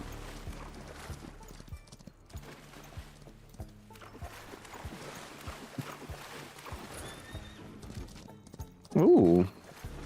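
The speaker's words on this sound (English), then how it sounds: "How do I get on my horse?" Horse hooves in the Far Far West video game form a steady rhythmic clip-clop, moderately loud under the game's background sounds, with a brief louder burst near the end.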